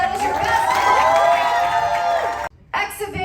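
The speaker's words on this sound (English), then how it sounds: "Give them a round of applause." Crowd at a Summerween horror convention costume contest cheering and whooping for the winners, loud and sustained with high shouts, a brief dip near the end before the cheering picks back up.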